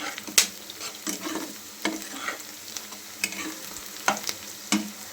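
Onions frying into crisp beresta for biryani sizzle steadily while a utensil scrapes and stirs the pan in sharp, irregular strokes.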